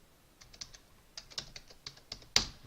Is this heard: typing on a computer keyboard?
yes